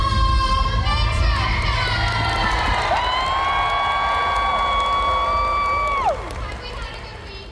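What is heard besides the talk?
convention crowd yelling and cheering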